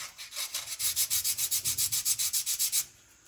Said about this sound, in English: I'm gonna get some good old sandpaper in here and